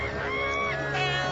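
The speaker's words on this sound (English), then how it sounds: "Those ducks are quacking their heads off." Cartoon ducks honk and quack in loud, overlapping calls during a rescue at a duck floating restaurant drifting out to sea, close and continuous for a moment.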